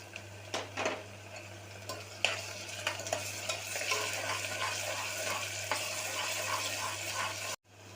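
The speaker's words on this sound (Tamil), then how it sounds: "இதோட இஞ்சி பூண்டு சேர்த்து போட்டு வதக்கலாம்" Ginger, garlic and green chilli sautéing in a pan, a busy sizzle with repeated scraping and stirring strokes over a steady low hum, cut off abruptly near the end.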